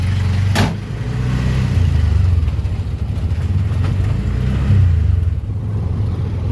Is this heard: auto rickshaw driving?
yes